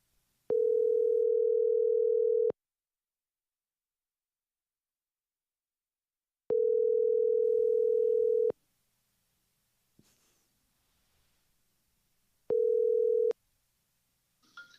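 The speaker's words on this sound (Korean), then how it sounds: "전화 연결 한번 해보도록 하겠습니다" A telephone ringback tone sounds while a call is being placed: three steady, clean tone pulses, two lasting about two seconds and a shorter third, with silent gaps between them and faint handling noise.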